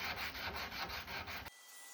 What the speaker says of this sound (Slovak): Teraz je čas na tie menej populárne práce, ako je začisťovanie a brusenie.